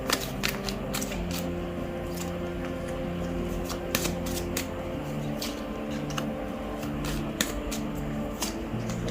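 Tarot cards shuffled and squared up by hand in a crisp, repeated run of riffling snaps and taps over a steady low background hum, close and alone.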